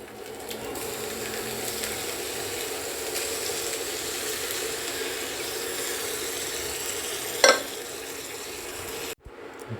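Cooked gram frying and being stirred in a Hawkins Futura cast iron kadai, a steady close sizzle with a brief clink of the stirring utensil near the end.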